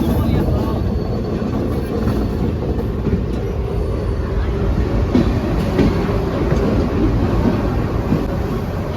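The Pinakini Express at MGR Chennai Central railway station gives a loud, steady rumble with rattling wheel noise throughout, with voices in the background.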